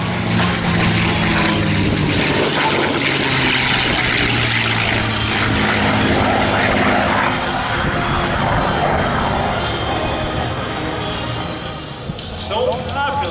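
A home-built experimental kit aircraft flies at the EAA Oshkosh airshow, its propeller engine droning loud and steady throughout before easing slightly near the end. A voice talks faintly beneath it.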